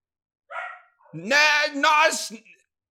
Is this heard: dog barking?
yes